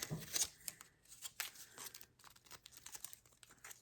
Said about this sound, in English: Okay, so take another strip of tape and do the same thing.